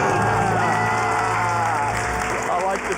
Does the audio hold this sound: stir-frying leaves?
no